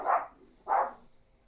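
A dog barks twice, a second apart, at moderate distance indoors, with no talk over it.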